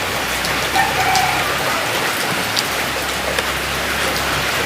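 Steady rain falls in a dense, even hiss with scattered droplet hits, close and continuous with no talk over it.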